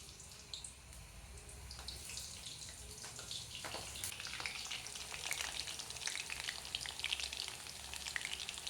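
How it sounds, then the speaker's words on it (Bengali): Potatoes fry in hot oil with a dense, crackling sizzle that holds steady and grows slightly busier, close by and with no talking. "তেলটা গরম হয়ে গেছে, আলুটা দিয়ে নিব।"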